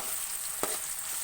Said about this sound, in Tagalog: mabango na po guys ang ating ginisang papaya